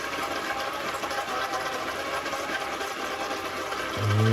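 A brushed RC car motor runs submerged in water during break-in, giving a steady, continuous whirring buzz with faint watery churning that grows slightly louder at the end.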